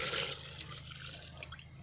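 Room-temperature water trickles and splashes into a blender jar over lemon peels, a faint, short pour with bright splashy detail early on, alone without talk.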